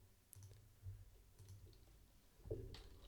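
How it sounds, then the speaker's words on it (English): Keyboard typing picked up through a Samson Q2U dynamic microphone, very quiet soft clicks scattered irregularly against a low background hum. "Let's go ahead and do some keyboard typing."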